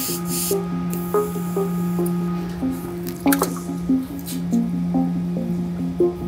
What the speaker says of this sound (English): You got little leaks.